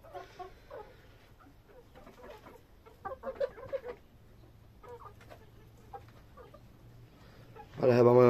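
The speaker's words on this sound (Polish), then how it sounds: "Kury sobie jakoś radzą, jak widać." Hens clucking softly while eating, scattered low clucks and pecking sounds close by, with a louder burst of clucking at the end.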